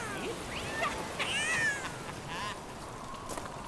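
A cat meows several times out in miserable rainy weather, drawn-out wavering cries at moderate distance over a steady background hiss, with no talking.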